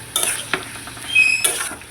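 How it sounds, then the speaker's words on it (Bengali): Eggs stirred and sautéed with salt in a spice masala, with scraping utensil strokes and short bursts of sizzle over a quiet background. "ভালো করে ডিমটাকে কষিয়ে নেব।"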